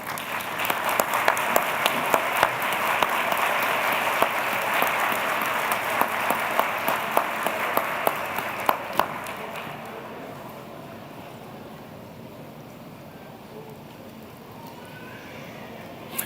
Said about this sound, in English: giving the Brian San Quintet a very warm round of applause